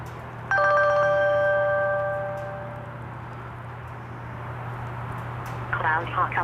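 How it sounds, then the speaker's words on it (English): An automated alert call from the CloudHawk vehicle tracker app opens with a bright electronic tone for about two seconds, followed by a steady low hum and faint tonal chirps toward the end. "It's going to send us a text message as well as an automated phone call letting us know that the vehicle has"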